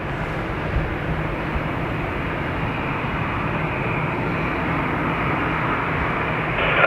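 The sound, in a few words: Ryanair plane on approach to Dublin Airport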